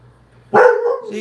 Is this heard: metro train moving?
no